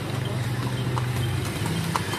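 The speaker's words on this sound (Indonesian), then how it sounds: "belakang ada kuda juga." Horse hooves clip-clop steadily on a paved block road outdoors, moderately close and continuous, with a faint background hum.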